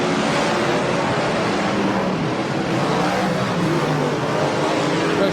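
Race cars roar around the dirt oval at Meeanee Speedway, a dense, continuous loud engine drone with overlapping revs and crowd-level noise, sustained without a break.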